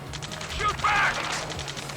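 Rapid automatic gunfire rattles in Ace Combat 7: Skies Unknown during a fight near a space elevator, a steady burst of shots over game sounds and radio chatter, fairly loud and continuous for about two seconds.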